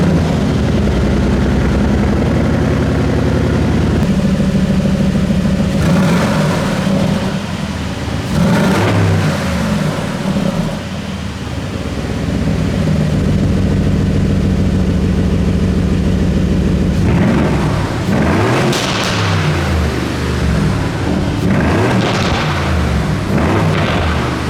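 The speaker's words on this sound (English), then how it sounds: "we can hear the exhaust, in both normal and Sport Plus modes." A 2022 Aston Martin Vantage F1 Edition exhaust in normal and Sport Plus modes: a loud, close engine drone that rises through revs, dips, then bursts into throaty blips and crackling pops.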